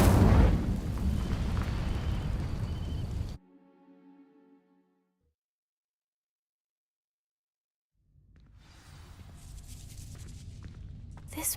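An Incendio fire spell igniting dry vines in the Hogwarts Legacy video game: a loud roaring whoosh of flame that cuts off abruptly, faint tonal traces, near silence, then a crackling rustling swell returns.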